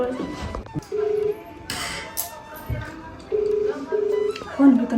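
A phone dials out in a Rajasthani-Haryanvi comedy sketch with nobody picking up: a few short beeping tones in separate bursts, mixed with household clatter and bits of talk.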